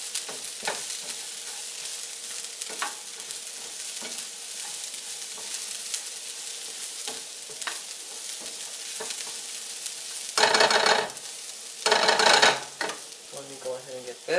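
A spoon stirs tomato sauce into a sizzling vegan dinner in a pan. A soft frying hiss runs throughout, with a few louder scraping stirs near the end.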